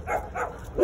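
A neighbor's dog barks near a street with passing cars, a quick series of loud, close yelping barks with no talking.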